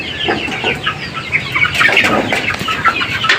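Young pet chicks with swollen faces, repeated close chirps and soft clucks in quick irregular bursts, fairly loud, with some rustling and no voices.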